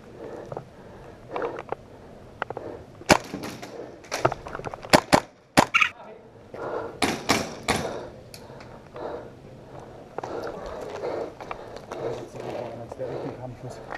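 Scattered sharp airsoft gun shots, single snaps and short clusters, ring out outdoors during a team deathmatch game while a person talks in German through much of it.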